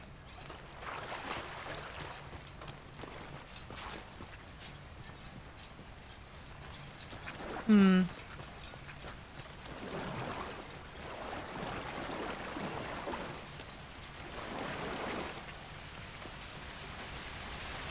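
Horse hooves clip-clopping in the video game Red Dead Redemption 2, soft steady steps under rain, with a brief whistle-like tone midway.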